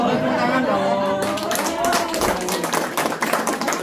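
An audience at a community gathering in Majalengka breaks into steady, dense applause after a brief moment of a voice speaking, the clapping close and sustained to the end.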